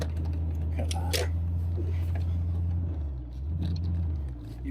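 Classic MGB V8 car accelerating on the road, a steady loud engine rumble heard from on board, with a brief dip near the end and light talk underneath.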